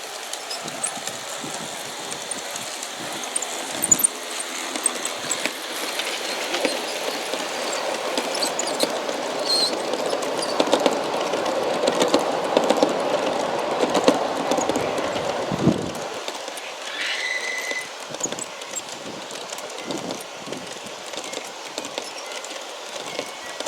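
A USA Trains model train rumbles along its track with steady clicking and rattling, mid-distance, then drops quieter with occasional light clacks.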